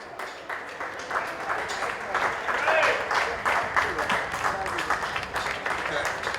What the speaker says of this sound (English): So let's give both teams a round of applause.